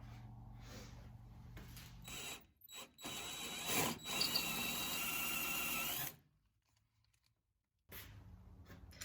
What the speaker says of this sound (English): using this spot weld cutter to cut around the outside, which is essentially just a hole saw